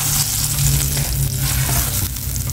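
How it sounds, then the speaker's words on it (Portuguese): Bananas fry in melted butter in a pan, giving a loud, continuous close sizzle with crackling and a bit of stirring throughout, and no talking. "Ó, frita sua banana."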